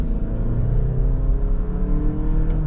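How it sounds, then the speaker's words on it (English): A 2026 Lexus NX 450h+ plug-in hybrid accelerates with its 4-cylinder engine, a loud, steady droning rumble from inside the cabin, its pitch held fairly flat in the manner of a CVT, with no talking. "You definitely hear the 4-cylinder engine and kind of that like CVT sounding transmission"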